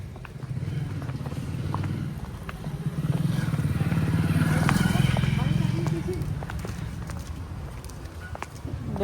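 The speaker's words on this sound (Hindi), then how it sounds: "बाइक आ रही है।" A motorcycle approaches along a village lane during Teej festivities, its engine rumble building steadily and peaking near the middle before easing off, while people talk throughout.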